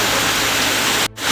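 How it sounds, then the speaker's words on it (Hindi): Heavy rain pours down in a dense, steady hiss that fills the whole clip, loud and close, with one brief dip near the end. "अभी बारिश शुरू हो गया, बहुत जोर से बारिश हो रहा है"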